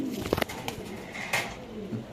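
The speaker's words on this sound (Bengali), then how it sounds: "এখানে আছে স্প্যানিশ মাদি কবুতর" Spanish female pigeons coo softly at a market stall selling pigeons, with a few short bursts of calls and faint shuffling against a steady background over about two seconds.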